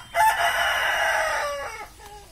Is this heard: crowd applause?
no